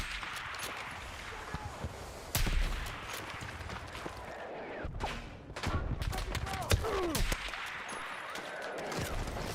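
Gunfire in the shooter Battlefield 6: sharp, scattered shots and short bursts, some near and loud, others distant, with a voice talking over the combat.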